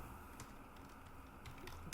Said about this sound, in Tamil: தமிழ் மெலோடி அப்படின்னு டைப் பண்ணிக்கிறேன்